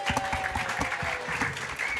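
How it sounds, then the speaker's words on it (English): Audience at a live footy show breaks into a steady round of hand clapping, dense and continuous for two seconds, with a faint whistle-like tone running underneath. "Sandy always gets a good round of applause."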